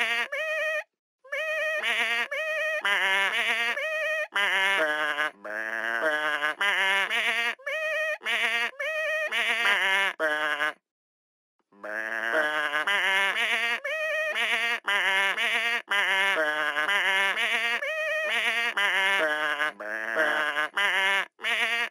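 Cartoon sheep bleat in rapid succession in the Hey Duggee video game's music game, a dense run of pitched, musical baas played one after another with brief pauses, loud and close, with no talking.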